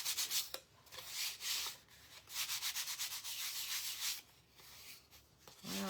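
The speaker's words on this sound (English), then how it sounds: "I always sand my stuff off" Paint is sanded off a decorated pumpkin in quick back-and-forth rubbing strokes, close and fairly quiet, with short pauses between bursts.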